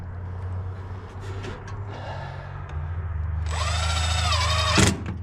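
Power drill boring into the fascia board of a new building's overhang, a rising whir in the second half that stops abruptly, over a steady low engine-like hum outdoors.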